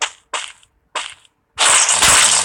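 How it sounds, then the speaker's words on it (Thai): Gunfire in the video game Free Fire: three short, sharp shots spaced apart, then a loud, sustained burst of fire. "เฮ้ยเสียงปืนไฟวะ"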